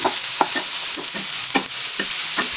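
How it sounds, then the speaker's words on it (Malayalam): Boiled pasta is stirred in a hot pan, a spoon scraping in a quick, regular rhythm over a steady sizzle, loud and close. "ഇനി നമ്മളതിലേക്ക് വേവിച്ച് വെച്ച പാസ്ത ഇട്ട് കൊടുക്കണം അത് നല്ലോണം ഒന്ന് മിക്സ് ചെയ്യാം"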